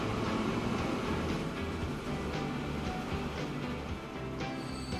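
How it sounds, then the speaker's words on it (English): Trains in the Transport Fever 2 game, including an oil train overtaking a food train, rumble along the line as a steady, dense, continuous wash of rolling rail noise with no talk over it. "the oil train is going to overtake the food train"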